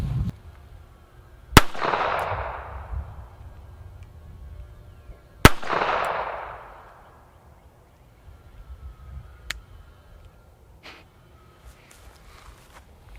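Two sharp, loud gunshots from a compact .32 pistol at a shooting range, spaced about four seconds apart, each followed by a brief echoing decay, with faint clicks and handling noises between.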